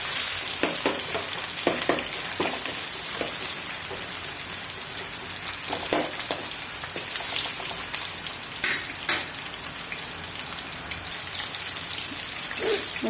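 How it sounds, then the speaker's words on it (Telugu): Onions and green chillies fry in hot oil for a homestyle toor dal pappu charu, giving a steady close sizzle with occasional spoon stirs and louder crackling bursts throughout, no voices. "ఉల్లిగడ్డ, ఆనియన్ అండ్ పచ్చిమిర్చి ఆయిల్లో మంచిగా బాయిల్ కానివ్వాలి"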